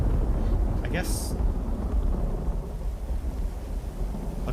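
Steady rain and low storm rumble wash through a rainy day in the Cleft in Uru: Ages Beyond Myst, continuous and fairly loud throughout, with a brief brighter hiss near the start.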